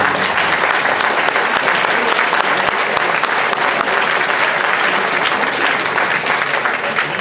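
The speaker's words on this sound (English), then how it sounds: "you should give yourself a hand" Sustained audience applause fills a debate hall in Madison County, steady and dense clapping throughout without pause or talk.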